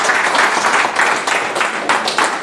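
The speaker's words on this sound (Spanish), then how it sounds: "Vamos a darte un fuerte aplauso." Loud, close applause from a church congregation, many hands clapping in short uneven bursts with a few sharper accents, lasting a couple of seconds with no talking over it.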